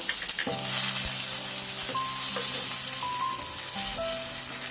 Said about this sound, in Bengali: তিন চামচ পেঁয়াজ পেস্ট দিলাম আর রসুন পাটা একটু কমিয়ে দিলাম পুড়ে যাওয়ার ভয় থাকবে